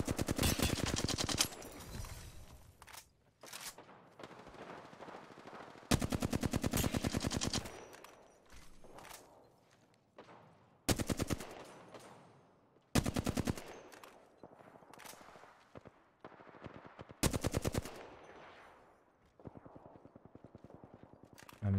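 Repeated bursts of rapid automatic gunfire in the video game Apex Legends, fired in uneven volleys with short gaps and scattered single shots between them.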